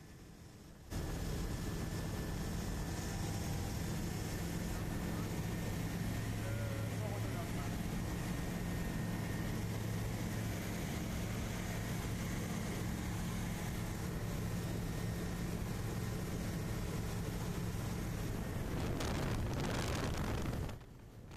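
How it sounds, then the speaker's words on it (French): A seaplane banks and heads back toward base over the bay off Guadeloupe, its engine a steady, loud drone with broadband wind and propeller roar that persists throughout before cutting off abruptly near the end. "déjà l'avion vire et repart vers sa base"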